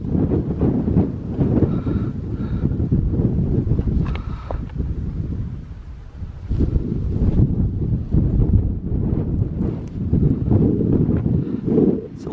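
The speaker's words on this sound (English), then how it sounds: "Little breezy. It's not as bad as it probably sounds." Strong wind buffets the microphone on an Appalachian Trail mountain summit, a loud continuous roar with gusts that surge and ease throughout, with no other sounds standing out.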